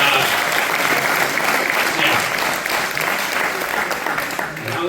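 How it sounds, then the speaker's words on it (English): Audience applause after a line in a speech, a steady wash of clapping from a crowd that holds for several seconds and eases slightly toward the end. "That was the applause line."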